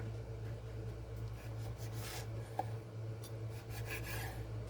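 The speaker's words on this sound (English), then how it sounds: "Guess I'm going to have to take my knife, sharpen it a bit." Kitchen knife being sharpened, faint repeated rasping strokes over a steady low hum, close but quiet, no speech.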